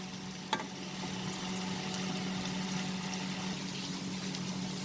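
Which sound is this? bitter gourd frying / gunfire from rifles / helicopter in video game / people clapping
bitter gourd frying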